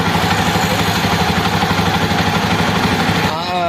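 A Jawa motorcycle engine idles close by with a steady rhythmic low throb and clatter, then a brief change in tone near the end.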